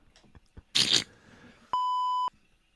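A single clean electronic beep tone, steady and about half a second long, following a short burst of crunchy noise and a few soft clicks on a live podcast show.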